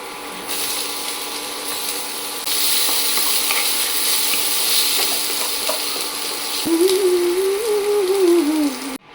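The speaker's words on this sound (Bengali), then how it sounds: "এখানে অল্প তেল দিয়ে দেবো আর তার মধ্যে বাদামগুলো ভাজবো" Peanuts frying in a little oil in a pan, a steady sizzle with stirring scrapes that gets louder partway through, then a rising tonal whine near the end.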